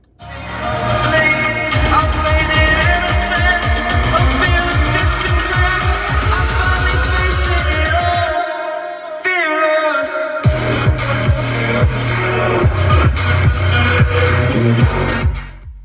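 Loud, full-range music plays continuously through an Audi A6 car sound system with a steady punchy bass beat, dropping briefly to a thin, bass-less passage before the full mix returns.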